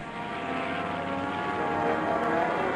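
A propeller airplane engine drones steadily as the plane climbs during Operation Highjump in Antarctica. The roar is loud and continuous, builds slightly and carries no speech.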